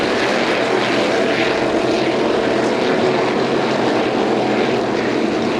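Offshore powerboat race engines roar steadily and loudly as the boats round the course, a dense, unbroken drone with no breaks or talk over it.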